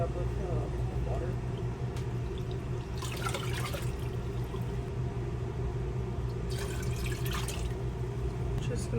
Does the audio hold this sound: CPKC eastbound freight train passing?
no